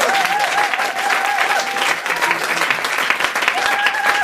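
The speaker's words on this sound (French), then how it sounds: "Est-ce qu'on peut pousser une forte acclamation au roi des rois?" A church congregation in Paris claps steadily and loudly in sustained applause, with voices calling out and acclaiming over the clapping.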